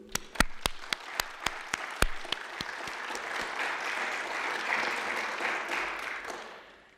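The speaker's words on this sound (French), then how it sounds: "Et nous pouvons déjà les applaudir, nos 13 binômes devenus aujourd'hui 6 binômes" An audience at a Brussels debate final applauds the competing teams, starting with a handful of sharp, separate claps that quickly merge into a full, steady wash of clapping.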